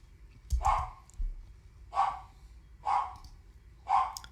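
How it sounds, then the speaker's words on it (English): A pet dog barks indoors in single sharp woofs, four spaced barks roughly a second apart, moderately close and alone over faint room noise. "And there goes my dog."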